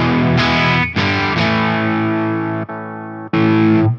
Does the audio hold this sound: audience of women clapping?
no